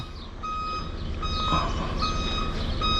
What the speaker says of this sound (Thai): อาจารย์สุฝืนถอยออกมาก่อน